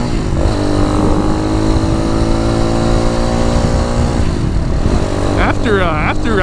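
A 2020 RPS Magician motorcycle, a clone of the Yamaha Tricker, drones steadily while being ridden, its engine hum loud and constant with wind noise, and someone talks over it throughout.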